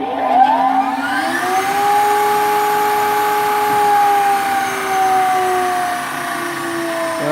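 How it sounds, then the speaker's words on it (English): An Okamoto 8-inch by 20-inch cylindrical grinder's belt-driven spindle runs with a steady high whine and tonal hum that rises briefly in pitch, continuous, loud and close, with no talking. "That's just a simple belt-driven spindle."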